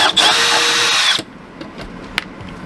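A power drill whines loudly and close for about a second, backing out a screw that holds a converter, then stops abruptly and leaves faint clicks and handling noises.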